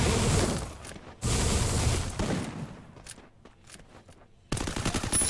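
Rapid bursts of automatic gunfire from a Free Fire video game match, loud and close, arriving in dense volleys with brief pauses between them.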